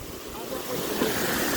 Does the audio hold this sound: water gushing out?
yes